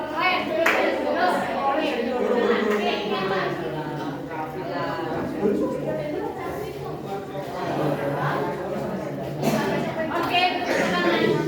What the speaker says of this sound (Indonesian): semua dari kalian anak-anak yang beri tepuk tangan